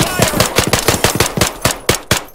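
Rapid bursts of automatic gunfire crackle in quick succession, loud and close, with a few single shots mixed in, in the video game ARMA 3.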